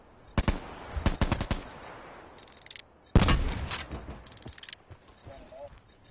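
Bursts of automatic gunfire in Call of Duty: Black Ops 4 Blackout, several sharp rapid volleys spread across the clip, loud and close, with brief mechanical clicks between them.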